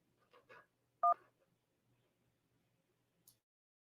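A single telephone keypad tone pressed to accept an incoming call on a phone line, a short beep heard alone amid faint clicks and near-silence.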